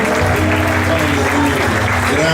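Congregation in a church applauding together, a dense, steady wash of clapping that fills the space for a few seconds, loud and continuous.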